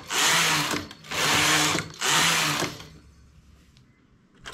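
A knitting machine carriage sweeps across the needle bed in three loud, rushing passes, knitting rows of neckline trim, each pass about a second long with short pauses between, followed by quiet handling noises.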